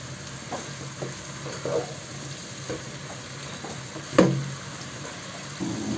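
Fresh vegetables with onion, garlic, chilli powder and salt frying in a pan, a continuous close sizzle broken by scraping stirs and one sharper clatter, no talk.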